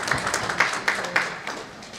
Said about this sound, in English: We can clap for him again.